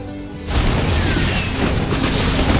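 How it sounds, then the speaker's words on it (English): A siege tank blows up in a StarCraft 2 match, a sudden loud booming explosion after a brief quiet lead-in, followed by a rumbling, crackling tail of debris that sustains to the end. "And the siege tank goes down."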